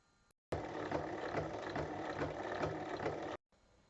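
A sewing machine stitches fabric strips for a tote bag, a fast steady mechanical chatter running for about three seconds before stopping abruptly, close and clear with quiet moments on either side.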